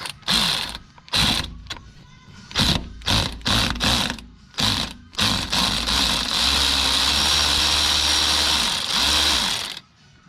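A ratchet spins a rusted strut bolt off an Infiniti G35, first in short choppy bursts of clicking, then in one long continuous whirring run, close and loud, ending abruptly.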